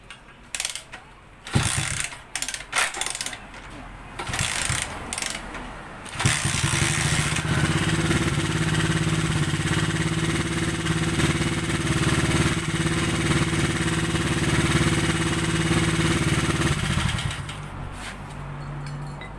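Honda-style JX110 motorcycle brought in for repair with hard starting blamed on the kick-start lever: several clunky kick strokes, then the small single-cylinder engine catches and idles steadily, close and loud, until it cuts out near the end.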